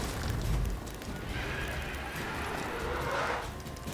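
A horse in The Witcher 3 video game lets out a neigh over galloping hoofbeats, a steady rush of game noise with the whinny rising partway through.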